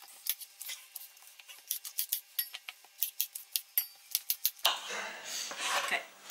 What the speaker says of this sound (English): These are quite big, so I'm chopping them in slightly bigger chunks.